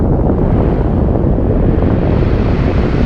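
Wind blows steadily and loudly across the microphone during coastal bass lure fishing, a continuous broadband rumble and roar with no breaks and no voices.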